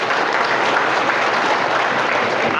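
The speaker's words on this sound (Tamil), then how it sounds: "பெருமையா நல்லா கைத்தட்டுங்கடா" An audience at a school education development day ceremony applauds its teachers, a dense, steady wash of many hands clapping that stays loud and even throughout.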